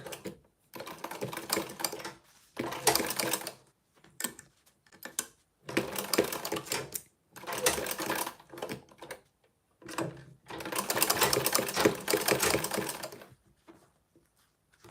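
A sewing machine back stitching a waist bag, running in about six short bursts of rapid mechanical needle clatter separated by brief silences, close and fairly clear, with no talking.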